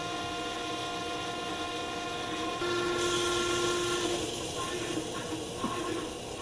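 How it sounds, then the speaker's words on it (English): Pitco P14 fryer filter machine runs its pump to return oil to the fryer, a steady mechanical hum with a tonal whine that rises partway through and holds. "turn the filter machine on by flipping the toggle switch up."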